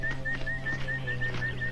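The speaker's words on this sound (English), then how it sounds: "this constant whistling sound that is clearly just a person whistling" A person whistles a rapid, repetitive high trill in short even bursts, over a steady low hum and faint background ambience, standing in for jungle sounds in a 1983 horror film.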